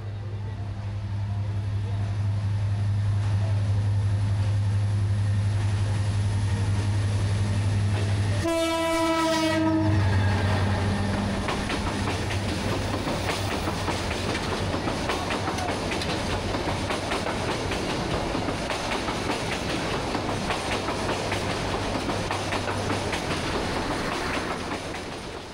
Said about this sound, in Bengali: জঙ্গলের ভেতর ট্রেন